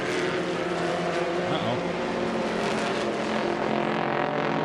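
Race cars at the Rolex 24 at Daytona roar in a steady, dense engine drone, with the whine of a passing car rising briefly above it before the noise settles back to an even wash.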